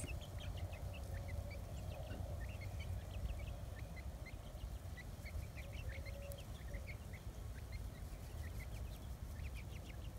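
Baby chicks peep in a soft, continuous chorus of many small high chirps, faint and a little distant over a low background rumble.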